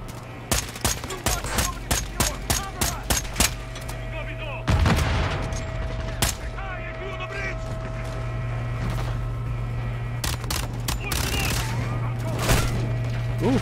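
Gunfire in the Modern Warfare 2 campaign: a rapid string of sharp, loud shots and bursts over a steady low hum, followed by a few scattered later shots, with brief speech.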